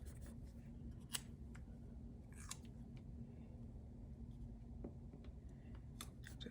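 Scissors snip at a pressed floral sticker sheet in faint, scattered little cuts and crisp clicks against a low steady background hum, with no talk.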